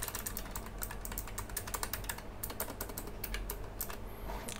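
Rapid typing on a Keychron K11 Pro ergonomic split mechanical keyboard, a dense steady stream of close, crisp key clicks with no voices.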